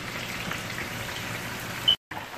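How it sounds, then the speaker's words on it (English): Chicken wings sizzle steadily in hot oil, a dense, even crackling hiss that briefly cuts out near the end. "Chicken is frying, so that's going to fry about 12 to 15 minutes."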